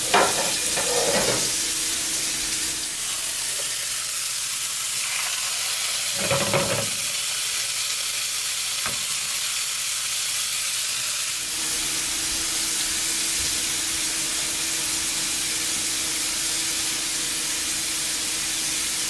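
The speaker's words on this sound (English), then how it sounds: "Alright, so we got the pan nice and hot. Let's put the bison burgers on there." Bison burgers sizzle and fry in a hot pan as steady close hiss, with a few brief stirring or shifting noises partway through and no talking.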